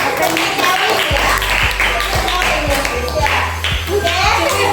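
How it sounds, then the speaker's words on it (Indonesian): Children clap together in a classroom, a sustained patter of many small hands with a few louder claps, under chatter from kids and an adult voice, with low thumps from below. "Tepuk tangan."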